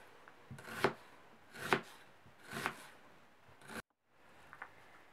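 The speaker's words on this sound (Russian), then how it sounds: "Сейчас лук, вот большая головка, мы ее режем и полукольцами нарезаем." A knife slices a large onion into half rings on a cutting board, giving four soft, rasping cuts about a second apart, then a brief pause and a few lighter scrapes, quiet and close.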